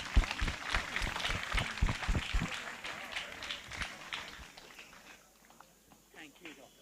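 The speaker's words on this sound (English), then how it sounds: "and may we end with a round of applause for Dr. Prabhakar." Audience applause closing a talk session at the Kerala Sahitya literature festival, a dense burst of clapping that fades and thins out over several seconds before a few scattered claps remain.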